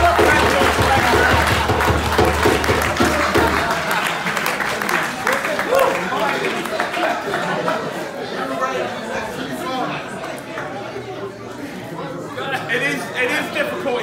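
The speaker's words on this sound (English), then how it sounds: "Give a round of applause." Audience applause for a performer at a mental health and suicide awareness performance project, a broad wash of clapping mixed with crowd chatter that is loud at first and slowly thins over the clip.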